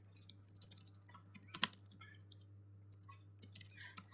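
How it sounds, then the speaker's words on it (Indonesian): Typing on a computer keyboard, entering long multi-line text into a web form text area, with quick bursts of close key clicks separated by short pauses and no talking. "Ini bisa kayak kita ngetik panjang yang berbaris-baris."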